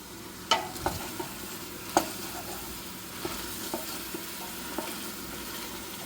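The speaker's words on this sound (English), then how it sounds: "Let me stir these onions." Onions frying in a soup pot while being stirred, a soft continuous sizzle broken by sharp clicks and scrapes of the spoon against the pot at irregular intervals, close and fairly quiet.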